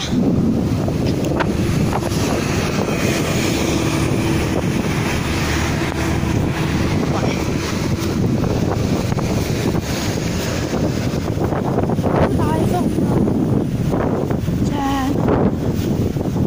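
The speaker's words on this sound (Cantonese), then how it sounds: "即係嗰個咁鬼死大風啊嚟到" Strong wind buffets the microphone in a constant, heavy roar near Lei Tung station in Hong Kong, with faint voices and some rumbling underneath.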